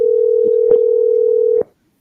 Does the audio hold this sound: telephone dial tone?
yes